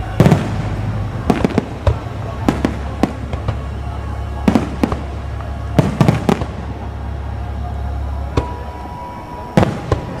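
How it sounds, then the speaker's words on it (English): Fourth of July fireworks exploding outdoors, a scattered series of sharp cracks and bangs at irregular intervals over a low steady hum, some near and some farther off. "There's some pretty fireworks blowing everywhere."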